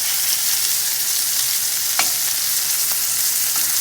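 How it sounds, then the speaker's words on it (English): Small pieces of mahi-mahi sear in a hot pan, giving a loud, steady sizzle with a few brief scrapes and clicks as they are flipped, close up and without talking. "And I'm going to flip these little pieces."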